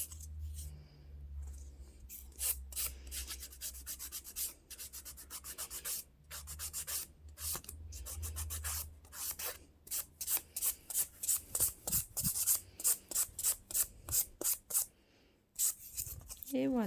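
Acrylic resin nail being filed and refined, a steady scratchy rubbing in quick repeated strokes that grow sharper and more rhythmic toward the end, close up, with a faint low hum beneath.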